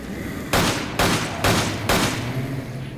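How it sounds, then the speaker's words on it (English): Enemy gunfire in Resident Evil 5 on a nightmare mod: four loud, broadband shot bursts spaced about half a second apart, each a short, harsh volley over a low ambient hum. "There's no time, he just keeps shooting."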